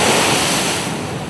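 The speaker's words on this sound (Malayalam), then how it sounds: "തിരമാലകൾ അടിച്ചു കയറി" Huge sea waves surge ashore during a sea attack at Poonthura, Thiruvananthapuram, a loud, close, continuous roar of crashing surf with wind buffeting the microphone and no voices.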